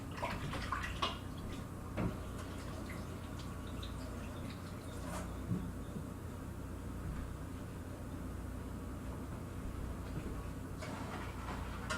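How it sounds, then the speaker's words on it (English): Tap water running steadily into a sink while hands are washed, a continuous broad hiss with a few soft splashes and knocks, indoors and close. "let me wash my hands real quick"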